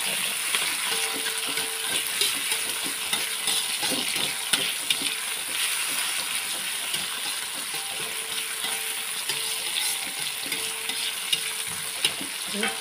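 Chili and tomato stir-fried with mushrooms in a pan make a constant close sizzle, with scraping and clattering from continuous stirring and no talk.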